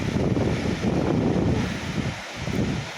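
A waterfall at Kund Banda, Pakistan, heard from about 100 metres away, makes a steady, loud, broadband roar mixed with gusty wind against the microphone.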